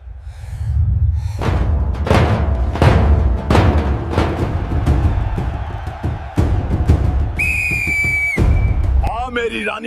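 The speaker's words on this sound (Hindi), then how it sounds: "रेफरी काका, सीटी बजाइए।" A referee at a wrestling bout blows a whistle: one clear, steady blast lasting about a second. Before it comes a run of heavy, rhythmic thumps, and other noise follows.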